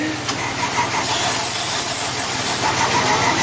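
A Volkswagen engine runs steadily at close range, its even, continuous mechanical rumble holding for a few seconds with no voices over it.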